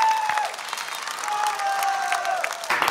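Applause from the audience at a folk singing gala show, heard as a sustained wash of clapping with a sung or held tone fading underneath.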